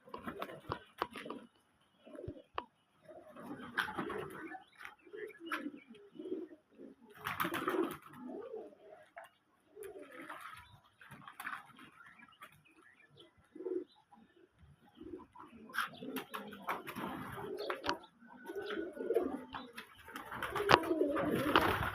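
Pigeons coo repeatedly in soft, low, throaty phrases from a loft or pen. Faint voices and a few rustles sound in between, and the cooing grows louder and denser toward the end.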